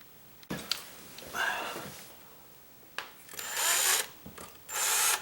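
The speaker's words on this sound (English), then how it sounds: "pre-drill those holes" A power drill pre-drills screw holes for a door strike plate in a wooden door frame, whirring in several short bursts with pauses between them, loud and close.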